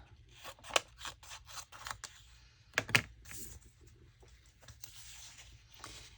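Scissors cutting a paper printable for a junk journal, a quick run of crisp close snips followed by a couple of louder cuts and softer paper rustling, with no talking.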